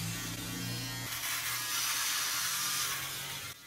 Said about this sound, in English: To me, it's the perfect shaver.